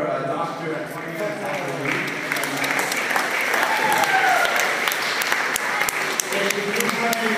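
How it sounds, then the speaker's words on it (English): A crowd gives sustained, even applause at the close of a talk at a technology education and mentorship event. The clapping is broad and continuous throughout. "Let's give a round of applause for Dr. Antonia."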